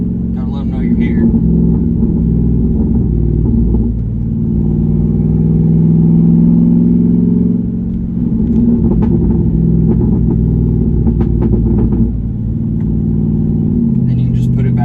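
A straight-piped Jeep Wrangler Rubicon 392 cruises through a residential subdivision in 3rd gear at about 2,500 RPM, with a deep, steady exhaust rumble that swells slightly midway while someone talks over it.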